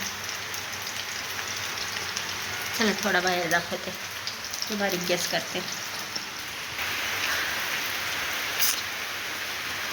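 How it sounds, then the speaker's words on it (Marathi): Steady rain patters on a surface throughout, a continuous hiss, while someone speaks briefly over it. "पाऊस बघा ना पाऊस कंटिन्यू चालेल आवाज येत असं"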